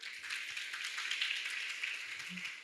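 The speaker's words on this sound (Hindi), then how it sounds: "तो जोरदार तालियां।" A crowd applauds in a steady, even wash of clapping that holds at a moderate level throughout without a break.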